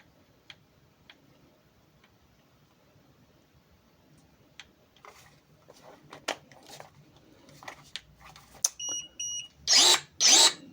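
A Procraft cordless branch cutter is handled with scattered clicks, then switches on, giving a short electronic tone and two loud, close whirring motor bursts at the end.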